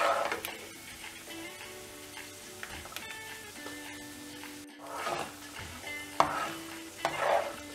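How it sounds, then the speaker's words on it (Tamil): Peanuts frying in oil are stirred in a pan, giving a steady close sizzle with scattered utensil clinks and a couple of louder scraping swells toward the end, with no talking. "இப்போ வேர்க்கடலை நல்லா வறுத்தாச்சு"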